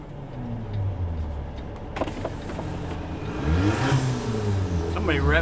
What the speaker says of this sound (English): Somebody revving up their car